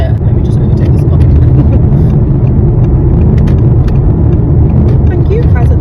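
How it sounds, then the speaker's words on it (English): Motorcycle overtaking a car on the road: a loud, steady engine roar with buffeting wind noise close to the rider, constant throughout with no clear change in pitch. "Let me just overtake this car."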